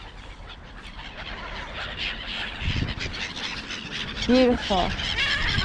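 Geese and other birds at an evening feeding in Kreuzlingen, with a short honking call rising near the end over a busy outdoor bed of bird chatter and a person speaking.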